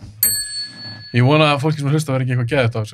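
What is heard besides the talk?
bell ringing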